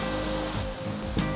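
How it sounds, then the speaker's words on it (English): A cascading waterfall in a gorge in Ithaca, New York, gives a steady, broad rushing roar close by, heard briefly and alone. "here's another cascading fall right here"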